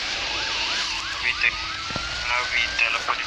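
A police car siren wails in the Asphalt 9 racing game, its rising and falling whoop repeating close and loud over engine noise, with brief sharp bursts layered on top.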